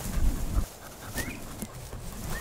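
A pointer-flusher bird dog whines and pants briefly out on a quail hunt, a close, short burst of whimpering and breathing against an outdoor background.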